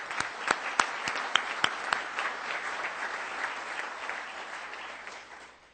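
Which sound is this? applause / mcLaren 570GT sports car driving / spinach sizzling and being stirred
applause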